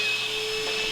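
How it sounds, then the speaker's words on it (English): A shop vacuum serving as a dust collector for a miter saw runs with a loud, steady motor whine and airflow, close and continuous with no speech over it. "you can hear the vacuum cleaner cutting on now"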